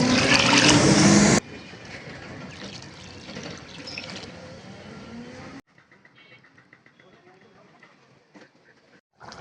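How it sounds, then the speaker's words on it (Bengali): Water splashes as two mugs are poured into a pot of braised beef curry, loud at first then softer, broken by abrupt cuts and near-silent pauses. "দুই মগ পরিমাণ পানি দিব"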